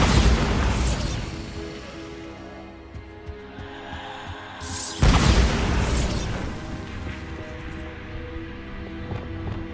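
A Bombarda spell blast in Hogwarts Legacy sounds as a loud booming explosion with a rumbling tail that fades, then a second sharp burst about halfway through, set against a low droning game background.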